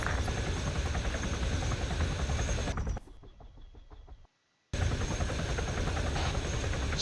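Heavy close rotor thrum and turbine drone of a helicopter in the Arma 3 video game, loud and steady, cutting to a quieter muffled stretch and a brief silence before the full roar returns.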